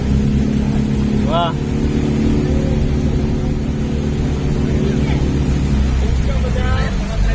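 A motorboat engine drones steadily and loudly on a Kerala backwater at Poovar, a continuous close rumble throughout, with voices exclaiming over it.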